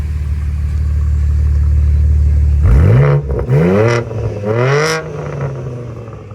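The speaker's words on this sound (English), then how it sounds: "Can you ask him to rev it?" 2025 BMW M4 Competition with a Dinan axle-back exhaust and mid pipe idling low, then revved hard three times in quick succession, each rev rising and falling sharply, loud and close.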